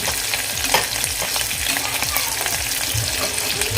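Green chilies frying in hot oil, a dense, steady crackling sizzle with faint stirring scrapes throughout.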